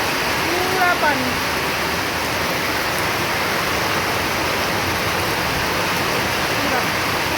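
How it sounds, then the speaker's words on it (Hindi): Heavy monsoon rain pours in a dense, loud, unbroken roar that fills the whole stretch, and a voice is faintly present beneath it. "ये देखो बारिश, मतलब बिल्कुल हद हो गई है, हद जिसे कहते हैं ना बारिश की।"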